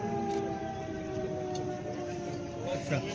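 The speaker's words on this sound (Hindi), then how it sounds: "अभी ऑल क्लियर का सायरन" A steady, droning civil defense all-clear siren wail holds on throughout, with faint background chatter and rumble beneath it.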